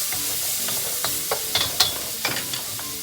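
Melting fat sizzles steadily in a pan at close range, with a soft continuous crackle and a few sharper taps and scrapes of a utensil.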